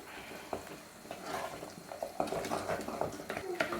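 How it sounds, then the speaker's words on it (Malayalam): Spoon stirring sweet pongal in a pot after cardamom ground with sugar is added, giving soft scraping and thick mixing sounds in uneven strokes close by, with light kitchen clatter. "നന്നായിട്ടൊന്ന് മിക്സ് ചെയ്ത് കൊടുക്കാം."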